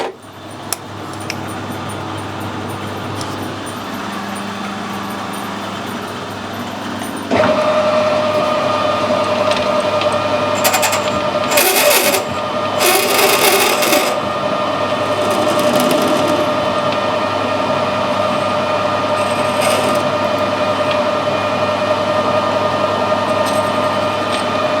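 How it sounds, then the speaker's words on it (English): A lathe turns a brass ornament shaft down to 1/4 inch: a steady machine hum with a constant whine that strengthens after a start-up step, and short, bright bursts of cutting noise, with no voices. "I'm just going to turn the end of this down to 1/4, put some threads on and screw it back together for him"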